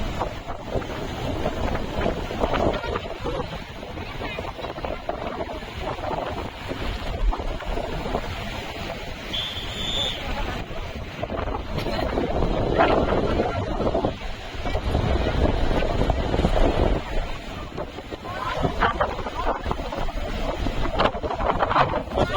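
Wind and surf at Blue Flag Beach in Puri, with steady gusts buffeting the microphone over the rolling wash of waves, loud and continuous throughout, with a faint voice now and then.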